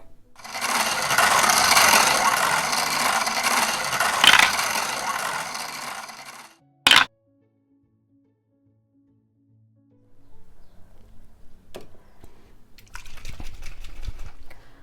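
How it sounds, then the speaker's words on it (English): A prize wheel is spun, giving a long run of loud, dense mechanical clicking for about six seconds, a sharp knock as it stops, then a silent pause and a later burst of lighter rattling and scraping. "So let's go ahead and spin the wheel."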